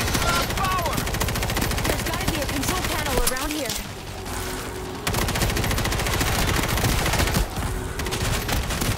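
Rapid automatic gunfire in the zombie shooter World War Z, a dense rattling stream of loud shots with brief pauses, while people talk over it.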